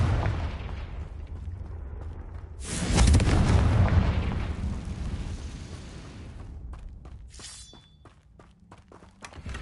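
A Confringo fire spell blasts off in the Hogwarts Legacy video game, a loud booming burst rising out of steady rumbling ambience and fading over a few seconds, followed by scattered lighter impacts.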